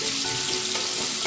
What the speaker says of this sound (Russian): Ну, вот они где-то у нас так жарятся